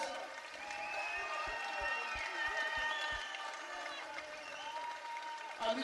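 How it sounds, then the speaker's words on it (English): Steady, sustained applause and crowd noise fill a fight venue after a bout, with cheering voices layered over continuous clapping throughout. "Okay, so a big round of applause"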